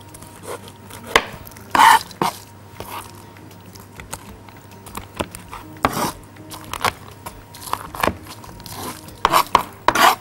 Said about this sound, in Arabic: الفلفل لو مش جايبينه كده نقطعه بالطريقه دي